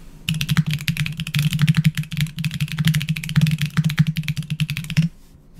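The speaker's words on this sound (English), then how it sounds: "That felt like really strong typing there." Rapid, forceful typing on a computer keyboard, a dense run of close, loud keystrokes for about five seconds that then stops abruptly, with no talking over it.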